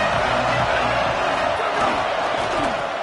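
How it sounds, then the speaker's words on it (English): A large stadium crowd at a college football game, Ohio State at Texas, roars steadily and loudly throughout, a dense wall of cheering and noise. "This crowd ready to make its presence known."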